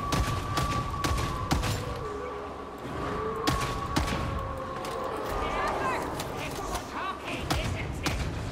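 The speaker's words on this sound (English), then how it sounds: "just keep blasting him with the bolt pistol" Repeated sharp gunshots from a bolt pistol in Warhammer 40,000: Darktide, loud cracks spaced irregularly amid game noise and a steady tone, with someone talking over the shooting.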